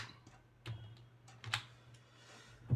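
Keys on a computer keyboard are pressed to enter Ctrl+F9, a handful of quiet, sparse clicks over a low background hum, with no voices.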